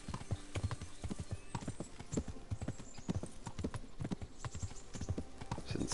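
Horse hooves clip-clopping in the video game Kingdom Come: Deliverance, a steady close trotting rhythm of the horse Pebbles with a faint whinny in places.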